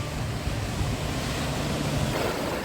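Sea waves wash onto the beach at Golden Shore in Odesa on a warm October day, a steady, even rush of surf with some wind noise on the microphone and no voices.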